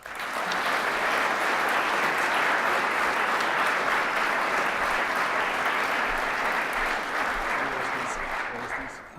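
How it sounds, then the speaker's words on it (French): Warm applause from an audience at a national agricultural merit award ceremony, dense, even clapping that stays loud and sustained for about nine seconds before tapering slightly at the end. "Applaudissons chaleureusement Madame Baugemans et Monsieur Bastien"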